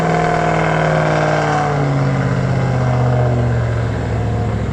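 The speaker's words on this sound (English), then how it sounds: "Let's hear it fire up. It feels like thunder." A 5 litre supercar engine at a cold start indoors, running loud and steady with a deep rumbling drone that fills the space and shifts slightly in pitch, with no talk over it.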